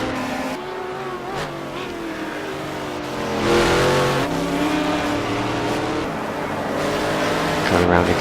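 GT3 race cars roar around Road America, a loud, continuous engine note whose pitch climbs and falls with gear changes and swells as the cars push through the corners.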